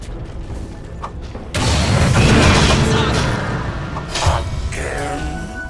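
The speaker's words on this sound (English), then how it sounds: "explosion!" A sudden heavy boom erupts from a Dota 2 match, followed by a sustained rumbling blast and a few lighter thuds afterward.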